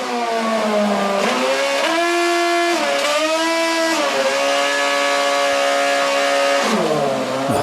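A car engine held on the rev limiter, loud and near, its buzzing harmonic tone climbing and bouncing as the limiter cuts in and out over several seconds, with no talk.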